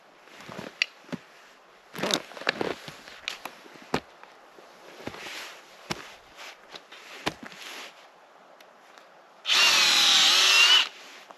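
A power drill whirs steadily for about a second and a half into a maple tree trunk, loud and close, after scattered knocks, scrapes and handling clatter.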